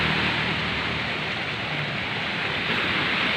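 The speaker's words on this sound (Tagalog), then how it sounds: "Doon ingay ng alon at saka ingay ng sasakyan ang maririnig nyo mga kaibigan" Ocean waves breaking along a beach, a continuous loud roaring wash of surf with no pauses or voices.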